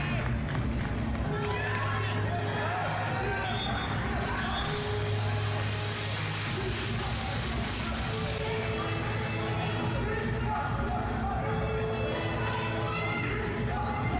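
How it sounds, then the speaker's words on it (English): Men's team fans cheering from the stands at a women's futsal match, a steady crowd roar with shouts running under continuous commentary throughout. "See the Chicago House men's team cheering on there."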